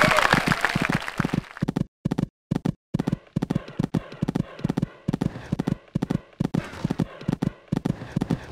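Hoofbeats of a galloping horse in the Equestriad 2001 equestrian video game, a loud, steady clip-clop rhythm of repeated thuds with brief gaps, heard close and alone.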